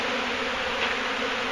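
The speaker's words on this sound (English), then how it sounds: "And there's a lot of bees." Honey bees swarm around a rotted wooden trailer, a dense, continuous buzz that sounds loud and close, with no talk.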